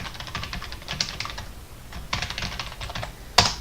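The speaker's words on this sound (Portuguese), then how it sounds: "Então vamos aqui digitar a credencial." Keys clatter on a computer keyboard as credentials are entered, in quick close bursts with brief pauses and a louder final keystroke near the end.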